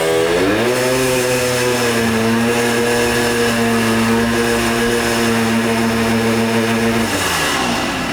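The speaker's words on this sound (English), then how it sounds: "Hey, your Hodaka, it's running." A Hodaka motorcycle that had not run in decades holds a steady, loud, close engine drone with a strong buzzing tone for several seconds before its pitch sags near the end.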